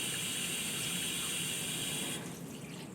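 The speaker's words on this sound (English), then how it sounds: "when we turn the control to 9 o'clock, the hand shower will run by itself" Hand shower running from an R46 shower trim, a steady close hiss of spraying water that softens slightly near the end.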